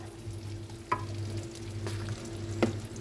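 Onion sautés in butter in a pan, a soft steady sizzle beneath a low background hum, with a couple of sharp clinks of a utensil against the pan.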